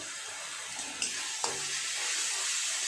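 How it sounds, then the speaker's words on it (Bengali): Spice paste of turmeric, chili and cumin powder sizzling and frying in a pan, with a steady hiss and a few sharp scraping clicks of stirring. "খুব ভালো করে মশলাটা একটু কষিয়ে নেব"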